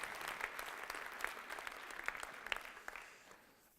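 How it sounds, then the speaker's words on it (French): A lecture audience at a university conference hall applauds a film just shown, the clapping dense with sharp individual claps before it thins and fades out toward the end. "applaudissez-moi ce film"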